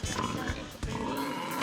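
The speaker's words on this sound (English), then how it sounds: "Pig." Pigs on a Tasmanian farm grunting and oinking close by, a few short snorty grunts over a steady background of other farm noise, with no talking.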